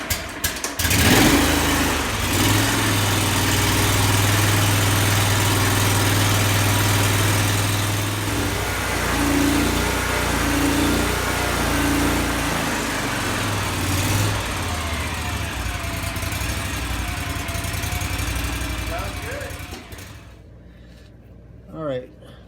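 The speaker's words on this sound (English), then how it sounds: "I'm gonna go ahead and crank it up." The engine of a Ferris IS700 lawn mower cranks and catches, then settles into a steady, rumbling idle for a long stretch before shutting off, with talk over it.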